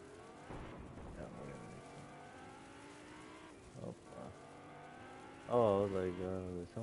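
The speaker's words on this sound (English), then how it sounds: "driving the car underneath me" A car engine in Fortnite hums and rises and falls in pitch as it is driven. Players talk over it, and a sharper revving burst comes near the end.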